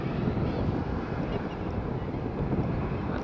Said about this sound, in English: Beautiful on the ground. Slight wind, not that much.